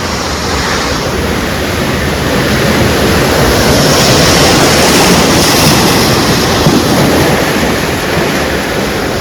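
Rough sea waves roar in a loud, continuous wash of surf on the coast during heavy rain, steady and close with no voices.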